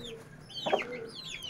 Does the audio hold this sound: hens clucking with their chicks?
yes